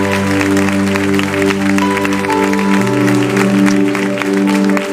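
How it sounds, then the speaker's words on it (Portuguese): A church congregation applauds loudly and steadily, the clapping blended with sustained music playing throughout. "Aplauda muito forte."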